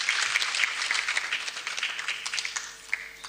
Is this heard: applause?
yes